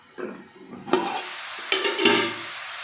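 Bottle gourd pieces fry in a pan and are stirred with a spoon, giving soft sizzling and a few distinct scraping and clattering strokes, close and fairly quiet, with no talk.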